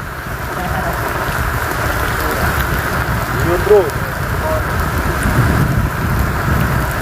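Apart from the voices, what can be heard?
heavy rain during a storm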